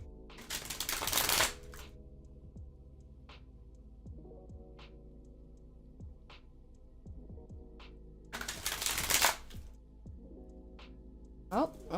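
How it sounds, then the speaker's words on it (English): Tarot cards riffled in two brisk, crackling bursts, one at the start and another near the end, with quiet stretches between that hold a low steady hum and soft scattered taps. "I shuffled and these two cards specifically flew out"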